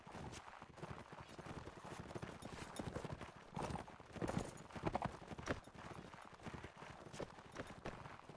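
Hooves clatter in a quick, steady galloping rhythm from a horse in a video game, a busy, fairly faint patter that continues throughout without a break.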